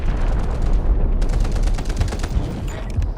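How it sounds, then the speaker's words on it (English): Artillery barrage explosions in the video game Delta Force, a dense unbroken rumble of blasts and gunfire-like cracks that stays loud and steady throughout with no talk. "Artillery barrage incoming."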